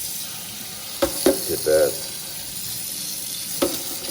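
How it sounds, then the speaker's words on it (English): Tap water runs faintly in a sink as a Whirlpool dishwasher filter is rinsed, with a few short clunks and splashes of the filter being handled; someone says a couple of words. "I'm going to just take this, rinse off the filter."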